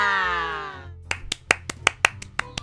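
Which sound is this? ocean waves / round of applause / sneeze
round of applause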